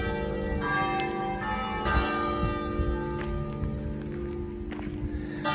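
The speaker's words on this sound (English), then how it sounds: "the bell tower is going off." Church tower bells ring out in a French town, several clear, resonant strikes spaced a second or two apart with long sustained overtones, ringing over faint background movement and street noise.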